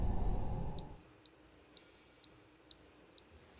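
Three evenly spaced electronic alarm beeps, each about half a second long and loud, sound in a CCTV control room after a burst of low rumbling noise at the start.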